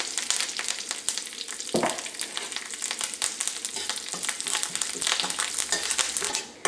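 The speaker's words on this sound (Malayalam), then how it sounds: "അപ്പോൾ ഉലുവയും കറിവേപ്പിലയും നന്നായിട്ട് ചൂടായിട്ടുണ്ട്." Continuous frying sizzle of crushed fenugreek and curry leaves in hot oil, close and fairly loud, with occasional stirring scrapes and crackles throughout.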